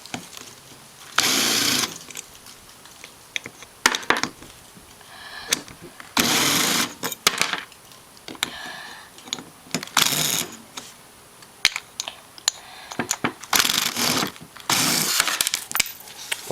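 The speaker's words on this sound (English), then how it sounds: "Ryker's going to take these bolts off the fuel pump canister" Bolts come off the fuel pump canister of a Rancher 420 ATV in repeated short bursts from a buzzing power driver, separated by pauses filled with small clinks and handling noises.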